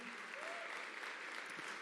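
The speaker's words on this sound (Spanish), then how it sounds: "Dale un aplauso al Señor" A church congregation applauds during a Spanish-language sermon, a faint but continuous patter of many hands, with a brief voice heard under it.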